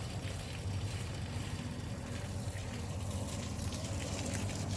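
Pressurised irrigation water gushes steadily into a grapevine vineyard, a continuous close rushing flow with no voices over it.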